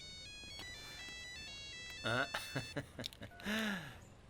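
A mobile phone ringtone for an incoming call, in a film scene, plays a repeating electronic melody of high tones for about two seconds, then a voice talks over the fading tones.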